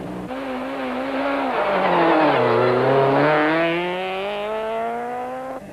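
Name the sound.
VW Golf Synchro rally car racing on stage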